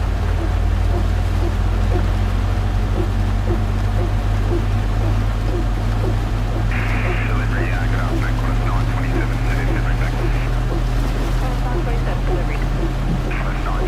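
Steady, loud drone of a Boeing 737-900 airliner jet engine running just after start in the X-Plane 12 flight simulator, with a constant low rumble and an unbroken hiss throughout.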